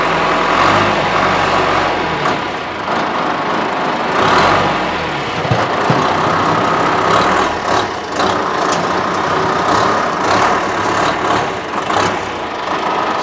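A 1978 John Deere 2440 farm tractor with loader, 540 PTO and roof idles with a steady, close, low diesel rumble that holds an even level throughout.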